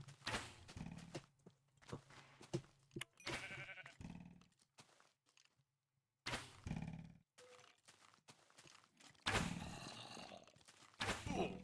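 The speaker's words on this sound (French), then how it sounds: "C'est un mouton, ça." A sheep in the Minecraft video game, with the Wonderland.jar mod, bleats several times in short bursts, mixed with footsteps and thumps, clear and close with gaps of near silence.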